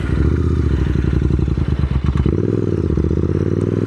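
A Royal Enfield Interceptor 650 parallel-twin motorcycle engine braking and downshifting, a loud close throbbing exhaust that drops in pitch, with a clunk of a gear change midway before settling to a lower steady rumble.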